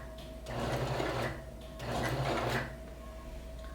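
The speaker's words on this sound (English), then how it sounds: "I'm going to change my stitch length to the stitch length I'm going to use for the rest of the seam, and sew a few stitches" A sewing machine runs two short bursts of stitching along a seam of a robe made from a bedsheet, a close, steady whirring with a brief pause between the runs.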